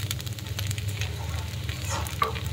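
Chow mein noodles with tomato sauce, red chilli sauce and soy sauce fry in a pan, a soft steady sizzle with repeated light stirring scrapes and one brief clink near the end.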